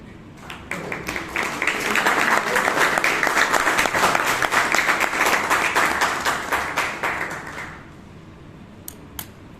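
An audience at a Toastmasters meeting applauds warmly. Clapping builds quickly, holds steady for several seconds, then fades out, leaving a few scattered claps.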